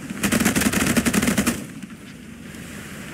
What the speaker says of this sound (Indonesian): Jadi ini kita bisa tembak